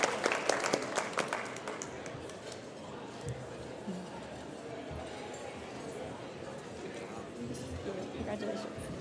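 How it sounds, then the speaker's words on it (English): Applause at the DRCOG 2022 awards celebration as award winners leave the stage, the clapping sharper and denser at the start and then settling into a steadier, softer patter with crowd chatter mixed in. "Let's give them one more round of applause as they make their way off stage"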